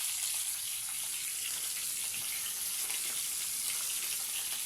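Fish frying in a wok-style pan over a wood-fired village stove, giving a steady, dense sizzle that holds at an even level throughout without pause.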